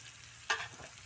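Tempeh and fish being stirred in a frying pan with spiced chili seasoning, a single short scraping stir with a brief sizzle burst over a low background hiss.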